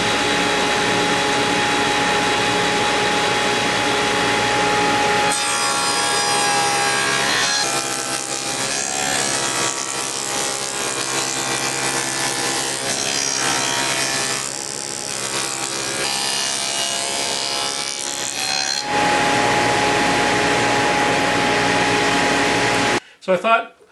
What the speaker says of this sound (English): why don't I just cut these pieces off at the table saw rather than setting up at the miter saw